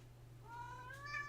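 A cat begging for dinner lets out a single drawn-out, rising meow, faint and somewhat distant over a low constant electrical hum.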